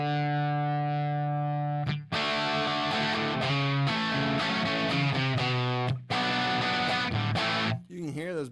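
Heavily distorted Les Paul Jr. electric guitar plays sustained, thick chords and notes, loud and close, with a couple of abrupt changes between strums.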